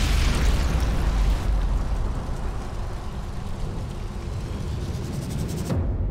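A loud, rumbling explosion in the video game Sniper Elite 5, a heavy boom that opens the clip and then rolls on as a sustained low roar before cutting off sharply near the end.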